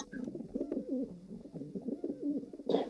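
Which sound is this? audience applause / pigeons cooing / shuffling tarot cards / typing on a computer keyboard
pigeons cooing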